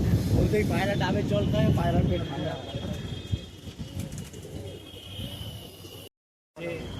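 Pigeons cooing at a loft in Behala, Kolkata, with soft repeated coos up close, mixed under someone talking and light wind noise, before a brief cut to silence.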